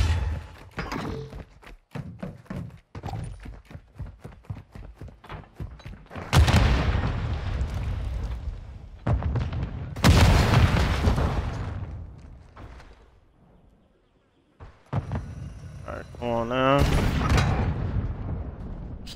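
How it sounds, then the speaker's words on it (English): Explosions and gunfire from a Search and Destroy match in Call of Duty MW2, several loud booming bursts and thuds spread across the stretch with short gaps, mixed with game effects and a player talking. "A lot of explosions, god damn."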